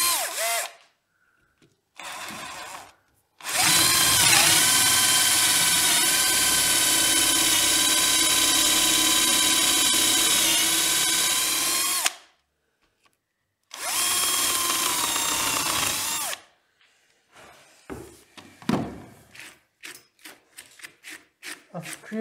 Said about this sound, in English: I've created a series of drill holes.